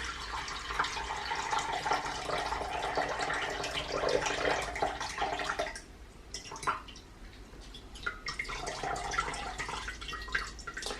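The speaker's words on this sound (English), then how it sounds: "I'm gonna pour the water" Fermented rice water poured from a container into a glass bowl, a steady wet splashing and trickling close by that runs for several seconds, briefly thins, then resumes with drips.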